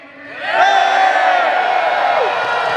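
A large crowd at a political rally shouts and cheers together, a swelling roar that builds within half a second and holds loud and steady.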